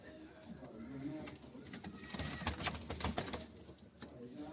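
Shaqa breed pigeons coo softly in a loft, low throaty calls blending with light fluttering and patter at a moderate distance, alone without talk.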